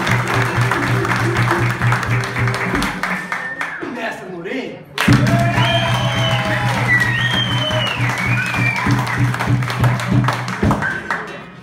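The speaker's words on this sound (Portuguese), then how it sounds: "Salva de palmas muito forte aí" A crowd at a capoeira gathering in Santa Maria claps in quick, regular beats alongside loud music and singing voices, dropping out for a moment before the clapping picks up again at full strength.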